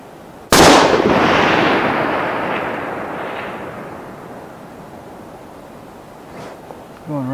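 A single loud .308 Winchester rifle shot, loaded with a Remington 9.5 primer and 180 gr. bullet, booms once close by and rolls into a long fading echo over an open range, with brief faint noises near the end.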